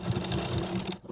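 Sewing machine stitching along a folded blouse fabric edge, a steady close whirring run of needle strokes for about a second before stopping abruptly.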